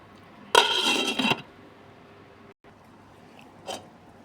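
A lid goes onto a cooking pot of tuna sinigang with moringa pods, giving a loud metallic clatter and scrape lasting under a second, then a quiet simmering background and one faint clink later.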